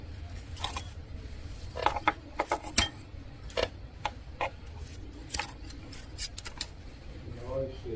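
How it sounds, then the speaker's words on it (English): Scissors snip a pothos vine stem while pruning, making a series of short, crisp clicks and cuts spaced irregularly, close by and fairly quiet against a soft background hum. "I'm going to cut right here."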